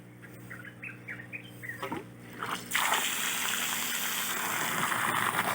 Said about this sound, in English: I'm going to turn the water back on and get those fish some water back in their tank